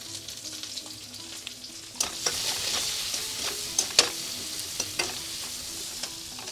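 Eggplant pieces with salt and turmeric sizzling in hot oil in a pan; a low background hiss swells into a bright, steady frying roar after about two seconds, punctuated by stirring clicks and spatula scrapes.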